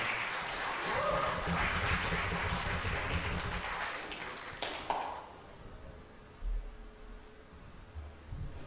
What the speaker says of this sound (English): Please give a round of applause to Kaylee Dougherty